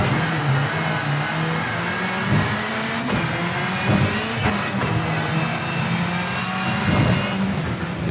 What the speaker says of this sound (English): It's accelerating hard.